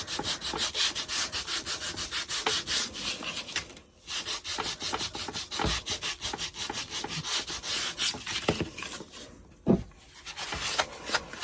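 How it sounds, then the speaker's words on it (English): A small finger sander scuffs back painted polka dots on rustic wooden farmhouse decor, giving a steady, close buzzing rasp of abrasive on wood that runs almost continuously, with two brief pauses. "Now I'm taking my little finger sander and kind of distressing back the polka dots."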